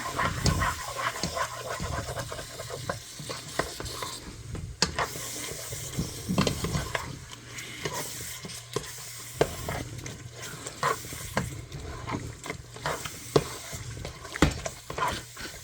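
A spoon stirs sour cream into beef stroganoff in a pan just taken off the heat, making close, irregular scraping and wet stirring sounds over a soft sizzle that fades. The stirring keeps up for the whole stretch with no talk.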